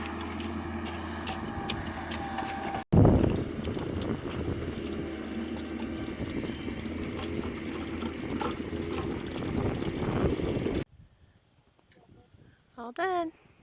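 Water from a ranch pipe drain gushes out beneath rocks in a steady, loud rushing wash that runs for about eleven seconds, then cuts off abruptly and leaves near silence with a short burst of talk at the end.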